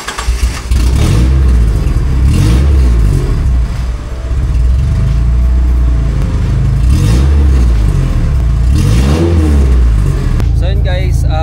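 A stock Mitsubishi 4G63 DOHC engine in a Tamiya owner type jeep, fitted with a loud muffler, revs hard several times in rising and falling sweeps, loud and close, with a steady throaty idle between the revs.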